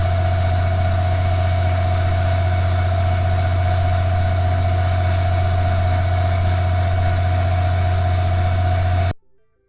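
A competitor 38-40 kW generator runs at full 100% load with a steady, loud drone and a strong low hum plus a tonal whine, continuous until it cuts off abruptly near the end.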